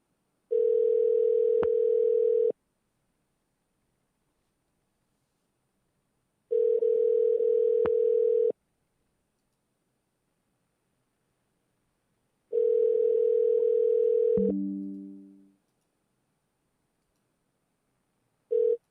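A telephone ringback tone while a number is dialed: three evenly spaced two-second tones separated by silences, the last one cut short by a brief descending set of tones, clear and alone.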